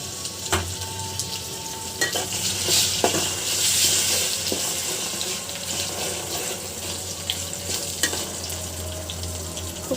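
Ginger, garlic and cumin paste stir-fried in a pan for a chicken dish, a continuous bright sizzle with scattered scraping and stirring clicks from a utensil.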